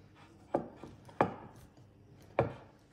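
Softened butter with at least 82% fat is mashed in a mixing bowl, giving three distinct, fairly sharp knocks spaced about a second apart over a quiet background.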